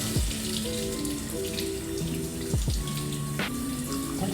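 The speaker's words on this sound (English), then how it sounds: "So we're gonna just rinse these off really good." Potatoes rinsed in a strainer under a running kitchen tap, a steady close water stream splashing over them with a few louder thuds and clatters as they shift, no talking.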